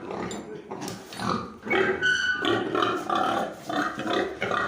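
A breeding sow, kept back as a replacement, grunts and snorts in short bursts on a farm, loud and close, with irregular pauses between the calls.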